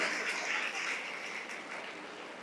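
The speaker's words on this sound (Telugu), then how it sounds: "విద్యార్థులంతా గట్టిగా చప్పట్లు కొట్టాలి" A crowd of students at a Telangana cultural troupe's performance breaks into loud, sustained clapping, a dense steady patter of many hands with no voices heard.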